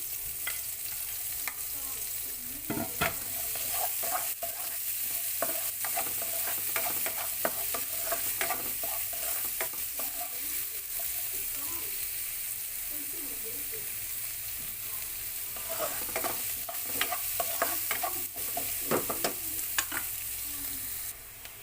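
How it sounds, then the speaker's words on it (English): Onion sautés in oil for clams curry with a steady sizzle that lasts throughout, while a spoon stirs and scrapes the pan in repeated, uneven strokes. "we have to put our onion and saute until it gets translucent"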